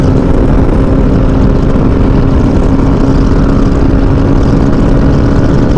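Suzuki V-Strom 250SX motorcycle engine at full throttle during a top-speed run, a loud continuous drone with a steady pitch and heavy wind rush, no voices.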